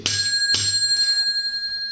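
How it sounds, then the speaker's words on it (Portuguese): Notification bell sound effect: two bright, close metallic dings about half a second apart, the second ringing on and slowly fading. "ative o famoso sino da notificação"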